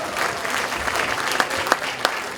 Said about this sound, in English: I think we ought to give ourselves a big round of applause